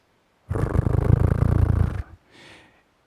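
An insect's vibrational signal picked up by laser and played through a speaker: a loud, rough, purring growl lasting about a second and a half, followed by a brief fainter rasp.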